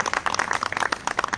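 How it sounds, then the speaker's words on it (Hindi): A burst of scattered hand clapping from a rally crowd at a protest in Delhi, brisk and uneven, close and fairly loud, lasting just over a second. "एक बार जोरदार तालियां बजाएं"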